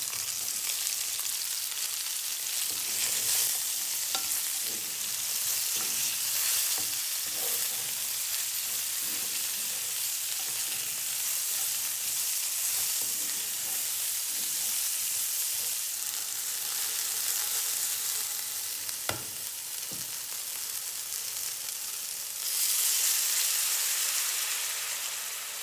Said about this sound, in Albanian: Pas janë skuqur dhe pak fare perimet